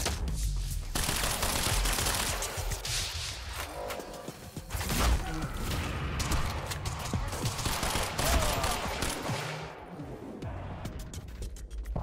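Gunfire in the video game Quantum Break: dense, loud bursts of automatic fire and shots layered with whooshes and mechanical clatter, continuing almost without a break throughout.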